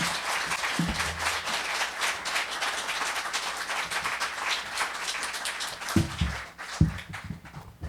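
A room full of listeners applauds after a book reading, a thick steady patter of many hands that stays strong for several seconds with a few low thumps and murmurs mixed in before it begins to thin.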